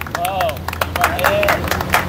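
Scattered audience clapping at a live magic show as a spectator is called up for a rope knot trick, uneven and fairly close, mixed with crowd murmur and overlapping voices.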